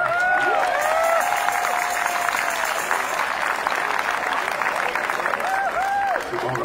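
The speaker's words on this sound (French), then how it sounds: "Let's go, Mr. Bernard, belle main d'applaudissements." A crowd at a festive community party applauds loudly, with cheering, whoops and shouted voices mixed into the continuous clapping throughout.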